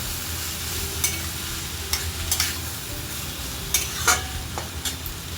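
Fried potatoes, cabbage and spices being stirred together in a pan, a steady sizzle punctuated by several sharp scraping knocks of a spatula at irregular intervals, close and clear.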